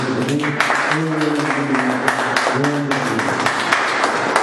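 A church congregation claps hands in praise to God after a prayer, the clapping running under a man's sung or spoken voice that stays prominent throughout.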